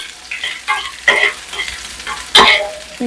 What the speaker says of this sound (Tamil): மிளகு ஜீரகம் இஞ்சி கொஞ்சம் நல்லா ப்ரௌன் ஆச்சுன்னா நல்லா வாசனையாக இருக்கும்